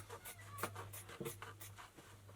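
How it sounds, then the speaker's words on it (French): Scissors cutting through a fabric pocket, heard as a very quiet, close sequence of short snipping strokes in an irregular rhythm over a low steady hum. "Donc c'est parti, je coupe la poche."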